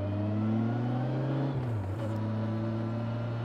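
A Kawasaki Versys 1000 SE motorcycle engine hums smoothly close up, its pitch rising steadily, dipping briefly at a gear change, then pulling on evenly.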